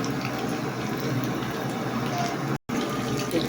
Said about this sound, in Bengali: ডিমগুলো ভাজবো, বুঝতে পারছি।